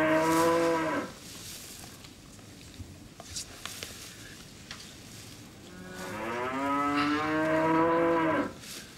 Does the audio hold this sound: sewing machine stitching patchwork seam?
no